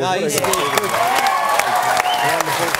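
Studio audience applause on a televised football panel show, a steady wash of clapping and some cheering that carries through the whole stretch under a voice talking over it.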